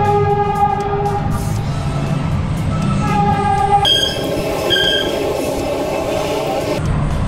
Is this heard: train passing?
yes